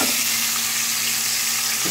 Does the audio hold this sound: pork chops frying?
yes